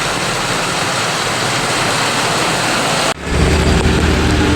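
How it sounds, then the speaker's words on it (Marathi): Extremely heavy monsoon rain pours down on a flooded Mumbai street, a loud, dense, unbroken roar of rainfall and rushing water that grows even heavier and deeper partway through. "किती जोरात पाऊस पडतो आहे"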